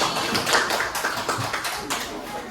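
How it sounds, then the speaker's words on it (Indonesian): A group of children or students claps their hands after a group presentation in a classroom, with loose, uneven claps running throughout and rising and falling in intensity. "Tepuk tangan lagi."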